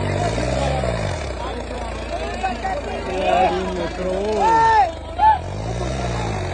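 A tractor engine labouring while pulling a trolley on a track, a steady low throbbing drone with rising and falling pitch under near-constant excited talk.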